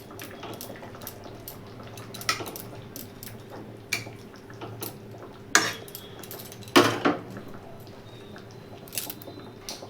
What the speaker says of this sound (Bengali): এটা ভালো করে মিক্স করে নেব।